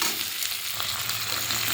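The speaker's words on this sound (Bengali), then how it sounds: "এবার রসুন আর পেঁয়াজটা দিয়ে ভেজে নেব মাছের তেল ঝালের জন্য।" Garlic, onion and ginger fry in oil in a kadai for fish curry, giving a close, steady hissing sizzle with faint stirring underneath.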